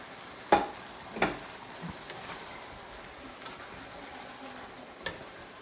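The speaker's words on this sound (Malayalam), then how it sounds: "ഞാനിപ്പോൾ റെഡ് ക്യാപ്സിക്കം ചേർത്ത് ഇതെല്ലാം നന്നായി ഒന്ന് മിക്സ് ചെയ്ത് കൊടുക്കണം" Red capsicum stirred into a beef and bean chili in a pan: a few sharp spoon scrapes and knocks against the pan over a quiet, steady sizzle, with no talking.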